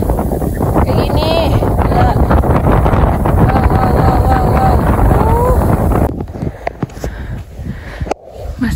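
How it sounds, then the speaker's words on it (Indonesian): Strong gusting wind on the hilltop of Bukit Anak Dara, Lombok, buffets the microphone in a loud, continuous roar for most of the stretch, easing into gentler gusts near the end, with voices faintly heard in the wind. "Meskipun anginnya kencang, kita harus semangat. Anginnya kayak gini."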